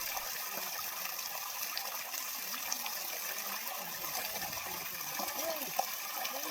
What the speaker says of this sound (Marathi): नंतर स्वच्छ पाण्याने धुवून घेऊया